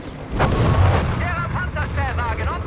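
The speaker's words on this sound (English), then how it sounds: "Actually, it's a dive bomb." A dive bomb air strike in Company of Heroes 3 lands as a loud, booming explosion with a rumbling tail, followed by someone talking over fading battle noise.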